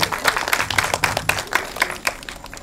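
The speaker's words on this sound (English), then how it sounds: "A huge round of applause for Nilima and her team." Dense, steady applause from an audience at a special film screening of Indu Sarkar, with many hands clapping close by in continuous rapid rhythm for the whole moment, with no voices standing out.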